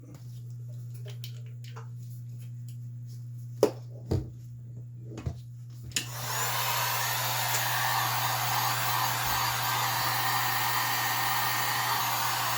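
A heat tool blowing hot air on a tumbler cup switches on after a few soft taps over a low steady hum, then roars as a loud continuous hiss that runs to the end.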